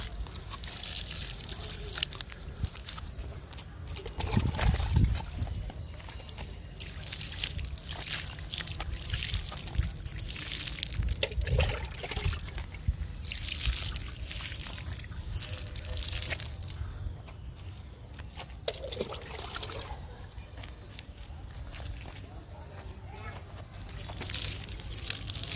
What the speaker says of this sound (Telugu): మొక్కలన్నిటికీ వాటర్ పోస్తున్నాను.